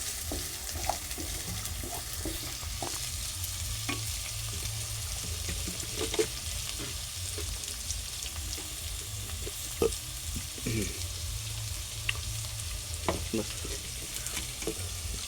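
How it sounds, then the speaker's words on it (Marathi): Brinjal, potato and tomato vegetable curry frying in a pan while being stirred, with a constant sizzle and crackle, occasional spoon scrapes and clicks, and a low steady hum underneath. "आम्ही ढवळून घेऊ"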